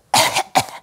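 Two hard coughs in quick succession, close and loud, with a faint start of a third at the end, from someone whose airway is partly blocked while eating.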